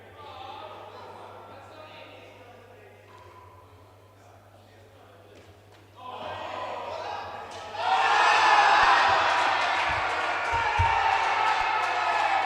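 A crowd at an indoor cricket match swells from murmuring into loud cheering and whooping that carries on for several seconds, with thuds from the court and voices talking over the start.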